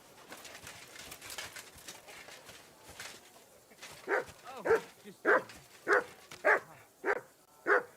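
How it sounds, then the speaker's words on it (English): A dog in a video game barks on command, about seven sharp evenly spaced barks in a steady rhythm, following a quieter stretch of faint game background sound. "Sit and bark."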